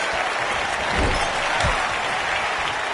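A dense crowd in a Tokyo Dome arena in a pro wrestling video game roars and applauds continuously, loud and steady throughout, with thuds from the ring under it.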